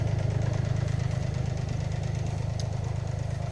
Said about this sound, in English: that's probably really noisy, that engine on there